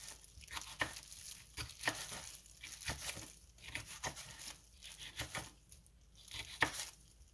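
Sweet peppers being cut with a knife in a home kitchen, giving repeated soft crisp slicing strokes at a steady, close rhythm, fairly faint with no talking.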